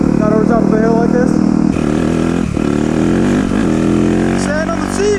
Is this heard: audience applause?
no